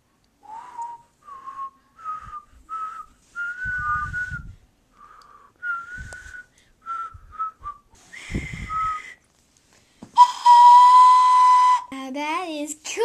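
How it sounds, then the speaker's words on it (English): A person whistles a tune in short, clear melodic phrases with brief pauses between them, followed by a louder sustained whistle and a few rising and falling whistled notes near the end. "Ooh, it's a nice whistle."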